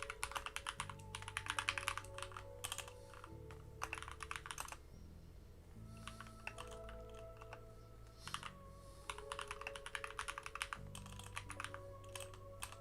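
Fast, uneven bursts of keystrokes clatter on a computer keyboard in close, quiet surroundings, with short pauses between runs of typing and no voices.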